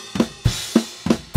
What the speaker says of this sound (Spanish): Entonces, la batería solita suena así.